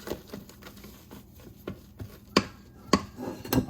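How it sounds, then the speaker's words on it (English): A whisk or spatula folds egg whites into pineapple upside-down cake batter in a bowl, giving soft repeated scraping and tapping strokes with a few sharper knocks against the bowl near the end. "You just want to do this to loosen up the batter some."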